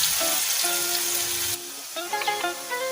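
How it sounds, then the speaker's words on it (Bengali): Chopped onion fries in a pan, browning in a soft sizzle under a tonal hum that drops away partway through, followed by faint clinks. "পেঁয়াজটা বাদামি করে ভাজতে হবে"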